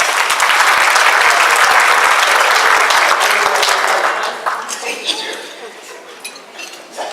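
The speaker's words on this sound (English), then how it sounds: "Give her another round of applause." A large crowd at an NAACP Freedom Fund gala in 2018 applauds a branch president presenting an award, loud dense clapping for about four seconds that then thins to scattered claps amid clinking dishes.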